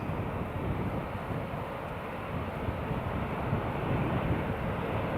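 A British Airways airliner departs Newcastle airport with a steady, broad engine roar that holds fairly constant throughout, distant rather than close, with no talk over it.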